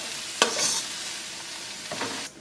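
Greens sautéing in a pan on lowered heat give a soft, steady sizzle with a couple of scraping stirs near the start and end.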